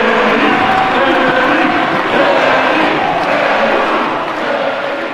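A crowd at a World's Strongest Man contest roars wildly, a loud sustained wall of cheering and shouting that holds steady before easing slightly at the end.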